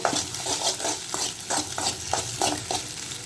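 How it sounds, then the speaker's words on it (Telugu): Egg fried rice with turmeric and green chillies is stirred in a hot pan, a rhythmic series of about ten scraping strokes over a constant sizzle, close and clear, with no speech. "తగినంత పసుపు వేస్తున్నానండి. 2 పచ్చిమిర్చి, ఒకసారి కలుపుకుందాం మొత్తం."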